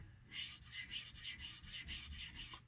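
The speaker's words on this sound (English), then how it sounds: "I'm actually putting a little bit of pressure on this to try to grind that down." A chipped straight razor edge is ground on a honing stone under firm pressure, giving a steady series of about nine close, rhythmic rasping strokes with no talk.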